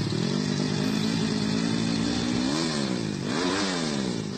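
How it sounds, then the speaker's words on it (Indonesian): A motorcycle engine drones steadily at close range while someone rides it, then revs up and down twice in quick swells near the end, with no talking over it. "orang naik motor lagi nih"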